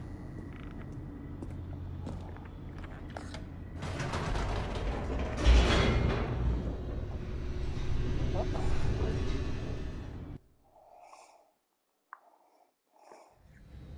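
An elevator in The Stanley Parable descends with a steady mechanical rumble, creaking and grinding like gears and ratchets, then cuts off abruptly to near silence broken by a few faint, soft thuds.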